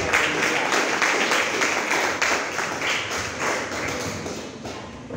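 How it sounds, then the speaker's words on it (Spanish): A church congregation applauds steadily, many hands clapping together close by in a sustained dense patter that slowly eases off toward the end. "Dele fuerte ese aplauso al Señor."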